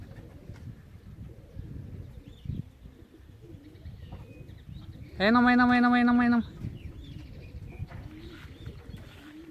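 Racing pigeons return to their home loft at the finish of a 427 km race from Grudziadz, amid steady outdoor background noise; a loud, close bird call bursts in for about a second midway, and a voice speaks briefly.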